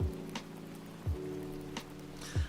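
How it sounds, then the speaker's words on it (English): Soft rain ambience from the city-building game Against the Storm, a faint steady patter with low thuds at regular intervals and quiet sustained tones underneath. "Also, it has its own rain ASMR, so I can turn off mine."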